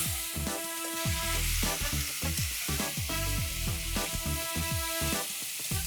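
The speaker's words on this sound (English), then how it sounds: "Now on a high flame, just saute the meat for 3 to 4 minutes." Bone-in mutton sautés over a high flame in a pan, a steady close sizzle with stirring, mixed under loud tonal background music that runs throughout.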